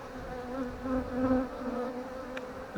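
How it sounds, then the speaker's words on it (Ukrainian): Honey bees buzz around a swarm and its queen at a hive, a steady, close, wavering drone that swells and fades slightly, with no talk. "Цепіться бджоли чіпляються за пальці."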